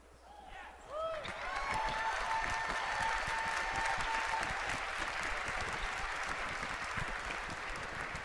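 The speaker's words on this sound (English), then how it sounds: "I hear people cheering" A large BlizzCon 2013 convention crowd bursts into cheering and sustained applause after a second of quieter sound, keeping up a loud, even roar of clapping. Someone speaks at the start.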